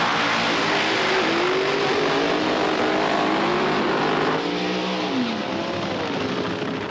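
A loud, roaring nitromethane-fueled funny car drag racing engine screams continuously, its pitch wavering and dropping slightly as the car thunders past.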